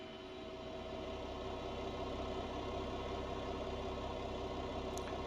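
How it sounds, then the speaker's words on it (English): Airbus A319 jet engines running steadily during pushback, a continuous broad roar with a low hum that holds level throughout, close and fairly loud with no talking. "Starting pushback, and you may start engines."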